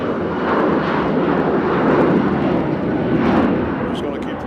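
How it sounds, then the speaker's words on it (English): Jet engine roar at Nashville International Airport as a CRJ takes off and a Southwest airliner lands, a loud sustained rumbling wash that swells and fades gently over several seconds. "Got CRJ taking off on the left side and a southwest landing on the center."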